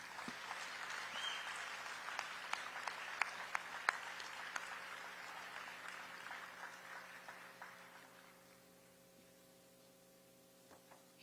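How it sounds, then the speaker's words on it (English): Sustained applause from a sizable crowd at a humanitarian awards ceremony in Houston, steady and fairly distant, gradually fading out toward the end. "you give Tim Miller, the head of EquiSearch, a very rousing applause?"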